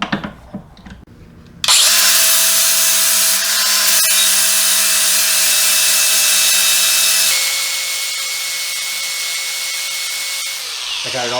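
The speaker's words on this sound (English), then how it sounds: "Now I need to take a flapper disc, and I'm going to grind this down flat." A flap disc on an angle grinder grinds a control arm joint on a 1999-2004 Jeep Grand Cherokee upper rear control arm. A loud, sustained whine starts abruptly after a short quiet stretch, eases slightly partway through and winds down at the end.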